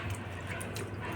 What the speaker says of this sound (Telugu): నీళ్ళు కొంచెం తల మీద చల్లుకోండి